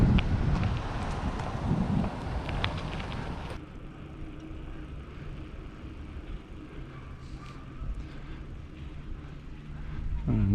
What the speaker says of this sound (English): The wind is starting to pick up this afternoon.